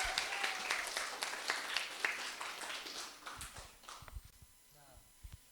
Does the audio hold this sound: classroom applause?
yes